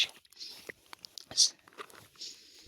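Quiet bites and chewing on a meal of sev onion curry with millet flatbread, soft crunches and mouth sounds close up, with faint speech at moments.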